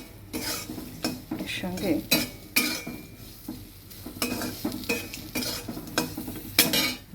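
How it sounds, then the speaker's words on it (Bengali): Turmeric-coated potatoes sizzle in a little oil over medium heat while a utensil stirs and scrapes the pan in repeated clattering strokes, loud and close, with a brief spoken phrase. "হলুদ আলুটা এখন ভাজা হবে।"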